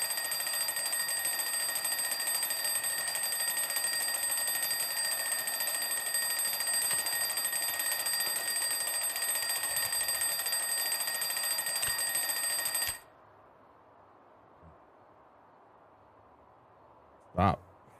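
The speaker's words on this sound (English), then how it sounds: "Stop beeping." In a zombie survival video game, an alarm clock beeps continuously in a loud, steady electronic tone for about thirteen seconds, then cuts off abruptly, leaving near silence broken by a single short click.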